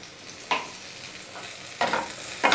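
Spoon stirring turmeric and salt into khichdi inside a pressure cooker, with three short scraping strokes at spaced intervals over a low background hiss.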